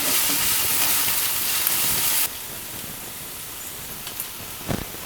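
Onions and fish sauté in a pan for fish dosai, a loud steady hiss of frying that suddenly drops to a quieter sizzle, with a few faint knocks near the end.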